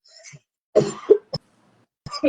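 A person coughs a few times in short, harsh bursts at close range, with brief pauses between them.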